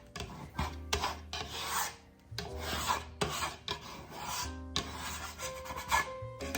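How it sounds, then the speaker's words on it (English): A scraper drags across a work surface to clear leftover stuck bread dough. Several close, rasping strokes come one after another, with brief pauses between them. "So I just take my scraper and scrape it up."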